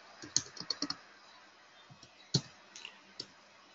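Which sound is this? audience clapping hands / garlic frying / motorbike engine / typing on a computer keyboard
typing on a computer keyboard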